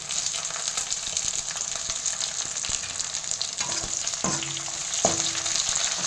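Curry leaves sizzle and crackle steadily in hot oil for a brinjal kara kuzhambu, with a few sharper pops near the end; close and continuous, with no voices.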